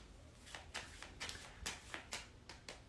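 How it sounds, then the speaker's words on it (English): Playing cards riffle through a false overhand shuffle, a quiet series of soft, regular slaps and flutters repeating about every half second, close and alone. "This is my false overhand shuffle."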